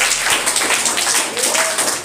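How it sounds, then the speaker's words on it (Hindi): Classroom applause for a student who topped the class, a steady dense patter of many hands clapping together, loud and close for the whole moment. "एक बार इसके लिए जोरदार ताली बजाएं।"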